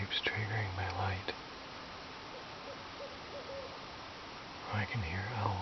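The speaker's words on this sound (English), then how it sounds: "I can hear owls, but they're not by the chickens." Faint owl hoots sound at night at the start and again near the end, separated by a long stretch of steady background hiss.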